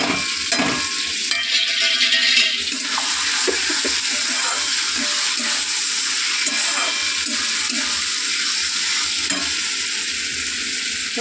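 Ground coriander, cumin and chili powder frying in a pan, giving a continuous loud sizzle with scattered stirring scrapes and clinks throughout.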